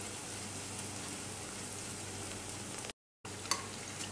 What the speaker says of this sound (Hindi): अब इसमें हम इस ब्रेड को फ्राई करेंगे